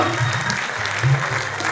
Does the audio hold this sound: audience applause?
yes